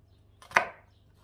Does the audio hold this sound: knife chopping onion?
yes